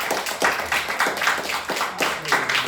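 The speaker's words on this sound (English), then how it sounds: "another round of applause." Audience clapping after a talk at a forum event in Nottingham, a steady, moderately loud patter of many hands with rhythmic swells, alone without speech.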